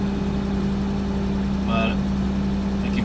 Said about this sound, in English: Just pulled into the driveway and it's idling pretty high